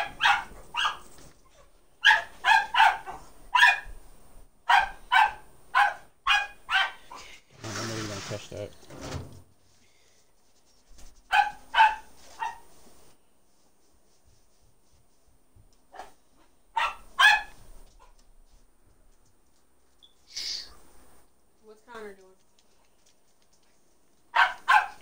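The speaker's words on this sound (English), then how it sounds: "Oh my God, a dog needs shut up." Repeated close barking from a dog comes in clusters of sharp yaps, with a brief clattering knock partway through, then a quiet stretch and a couple of faint whines or squeaks near the end.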